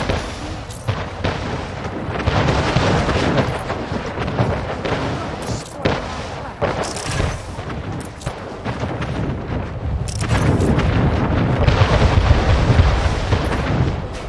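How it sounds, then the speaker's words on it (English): Warship torpedo explosions in the strategy game Anno 1800 rumble as repeated heavy booms and crashes over dense battle noise, loud and continuous with a few sharp impacts. "Oh, that was the torpedo."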